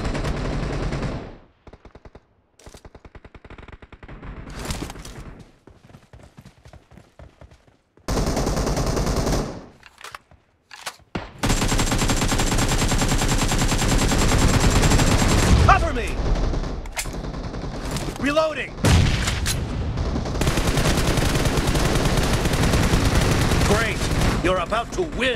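Gunfire in the mobile battle game PUBG Mobile: bursts of rapid automatic fire and single shots, loud and close, broken by brief gaps and then sustained heavy firing with booms.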